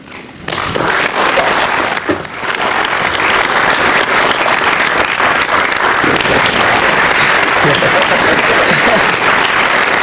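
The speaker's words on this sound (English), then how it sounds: "his 60-minute program is taken up by 40 minutes of just clapping" Sustained, dense applause and clapping from a large studio audience on a political talk show, loud and continuous for the whole stretch with no voices over it.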